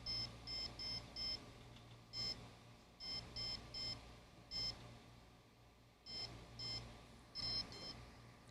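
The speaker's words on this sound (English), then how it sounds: "Stop beeping!" Quiet electronic beeping from a server alarm in short repeating bursts, two or three quick beeps per group, steady and persistent over a low hum.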